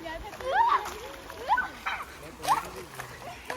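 Water splashes and sloshes at a small shallow river in Tripura where people bathe and wash dishes, with a few distinct splashes rising over steady outdoor ambience while people talk nearby.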